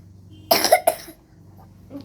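Two or three sharp, close coughs from a child in quick succession, each a short harsh burst, with a faint voice murmuring briefly afterward.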